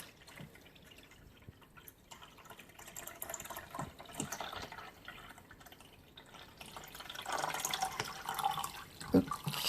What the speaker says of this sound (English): Alright, so adding another 4-ish cups of water.